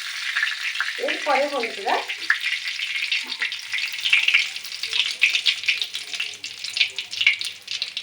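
Curry leaves crackle in hot oil for a moong dal with banana blossom; a voice speaks briefly near the start, then a continuous spitting sizzle with stirring scrapes fills the rest.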